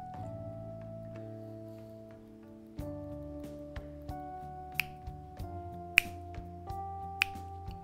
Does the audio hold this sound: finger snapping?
yes